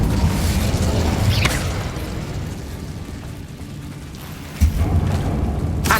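A fire spell cast in the Hogwarts Legacy video game makes a sustained roaring, crackling rush. It peaks in a whoosh near the start, then stays steady and fairly loud until a sharp thump near the end.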